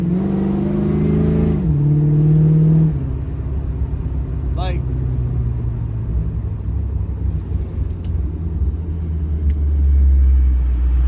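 A Pontiac Firebird engine idles with a deep rumble, then a brief rise in pitch as the throttle is pressed, with someone talking briefly over it.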